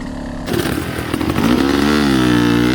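Hard enduro dirt bike engines racing on a technical course during an Australian championship round, a loud close two-stroke whine rising in pitch after a sudden onset and holding steady under hard acceleration.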